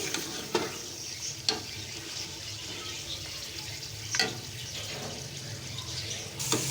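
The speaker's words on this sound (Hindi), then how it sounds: "ग्रेवी के लिए हम इसमें पानी डालेंगे।" Water pours steadily into a hot pan of frying turnip and meat curry with a loud, continuous sizzling hiss, punctuated by a few sharp clinks of a utensil against the pan.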